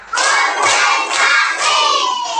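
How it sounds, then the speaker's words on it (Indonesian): A group of children clap together on a teacher's count, loud close bursts of claps in a regular rhythm of about four beats with shouting voices mixed in. "sekarang tepuk 1, tepuk 2, tepuk 3, tepuk 4"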